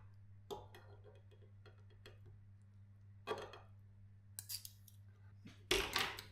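Knife and fork cutting open a meat pudding pastry on a plate, giving a few soft scrapes and ticks, a brief cluster of scratching, then louder crisp clinks and crunches near the end over a low steady hum.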